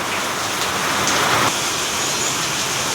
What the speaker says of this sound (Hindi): देखो दोस्तों अभी भी थोड़ी सी बारिश हो रही है